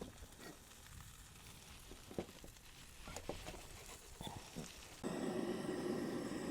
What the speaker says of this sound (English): chop these into some 2-bones, drop these back in the pan